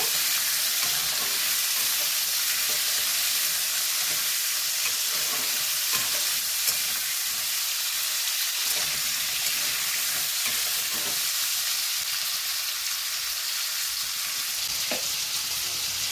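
Potatoes frying in a pan of oil with tempered spices for a winter vegetable dish, a steady close sizzle with occasional stirring clicks, continuous throughout.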